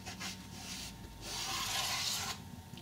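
Steady rubbing and rasping against model railway track while it is cleaned, a short stroke followed by a longer continuous scrub, close and fairly quiet.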